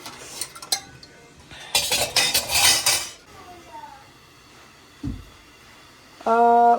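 Dishes and cutlery clatter and clink in a busy burst, then quieter scraping and a soft thump, ending with a short electronic beep.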